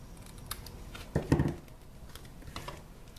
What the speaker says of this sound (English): turn the card over and trim off the excess